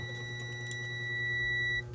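Multimeter in continuity mode beeping while testing the capacitor of an induction cooker, a single steady high electronic tone held for nearly two seconds over a low background hum.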